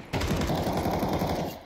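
Rapid automatic gunfire in a competitive esports shooter match, a dense burst of closely spaced shots that starts abruptly and rattles on loudly for over a second.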